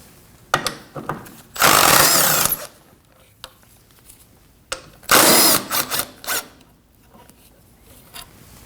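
Two bursts of a power tool, likely a ratchet or impact driver, spinning out 10 mm bolts near the intercooler on a 2015-2024 Ford Edge 2.0L, with clicks and handling noises between the loud whirring runs.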